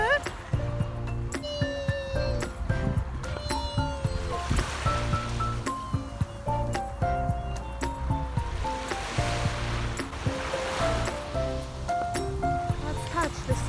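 Sea waves wash onto a beach at Varkiza, Greece, a rhythmic swish of surf breaking and retreating close by, with adults and a baby talking and cooing over it.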